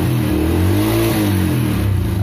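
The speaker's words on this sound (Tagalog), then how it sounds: "napansin ko is pumino na naman tong aking motor, dahil nga syempre malinis na ulit yung ating carburetor" A motorcycle engine runs after its carburetor was cleaned, a loud, close, steady drone with a slight swell in pitch partway through and no pauses.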